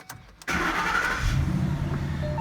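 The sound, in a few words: Ford Mustang GT 5.0 car engine starting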